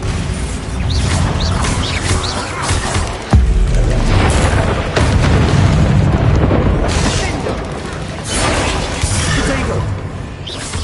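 Bombarda explosive spells in Hogwarts Legacy go off as repeated heavy booms and bursts, with a sharp loud hit near the three-second mark. Whooshing and mechanical combat noise carry on throughout at close range.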